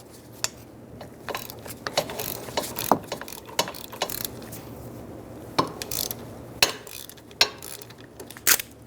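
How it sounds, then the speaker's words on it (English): A ratchet with a 14mm socket breaks loose caliper bracket bolts on a 2010-2014 Subaru Outback, with repeated clicking pawl strokes and sharp cracks as bolts give, close and distinct over a faint hum. "Break the caliper bracket bolts free using a 14mm socket."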